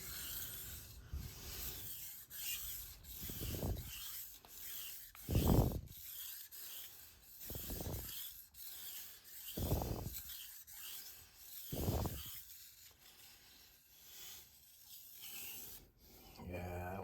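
A knife blade is drawn repeatedly across a Shapton Kuromaku 1500 grit whetstone, giving soft, close rasping strokes in a steady back-and-forth rhythm of about six passes, quiet and without talk.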